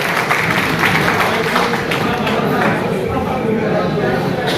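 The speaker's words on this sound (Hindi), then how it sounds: "आप लोग हार्दिक अभिनंदन तालियों के साथ एक बार करते हैं।" An audience in a block hall at a teachers' union election gathering claps in sustained applause, loud and close, with voices mixed into the clatter.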